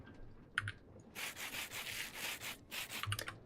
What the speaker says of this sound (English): Then we need to sand that with sandpaper.